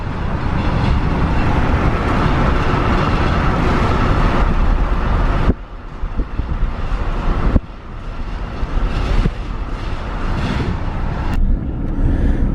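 A GMC Sierra 2500HD pickup drives while towing a trailer, heard from inside the cab as a loud, steady rumble of engine and road noise that dips briefly a couple of times, with no talking.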